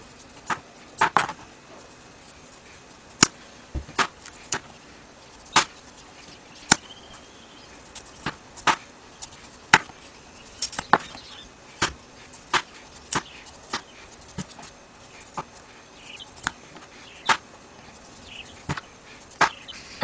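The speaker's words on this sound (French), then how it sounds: "je vais éplucher le potiron à l'aide d'un gros couteau qui coupe bien" A large sharp knife peeling a pumpkin gives crisp, separate scraping cuts at a steady uneven pace, each one short and close by, with quiet between them and no voices.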